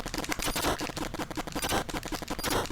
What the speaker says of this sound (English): Your machine gun doesn't curve.